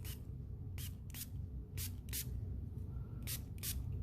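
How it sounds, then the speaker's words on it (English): Several short hissing spritzes from a spray bottle onto paper, seven quick bursts in an irregular rhythm, close over a low steady background hum. "and you're going to spritz."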